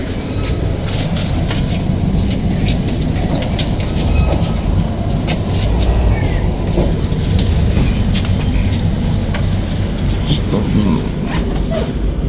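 The Puri–Sealdah Duronto Express runs on the rails, heard from inside a first-class AC coach as a steady loud rumble with rhythmic wheel clicks and creaking of the carriage.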